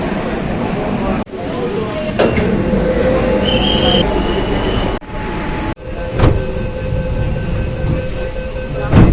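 A Kolkata metro train rumbles loudly at an underground station, rolling in and pulling away, with heavy steady roar, a brief high squeal, sharp clunks and dropouts, and a voice speaking over it.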